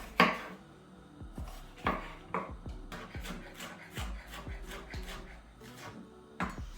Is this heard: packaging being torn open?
no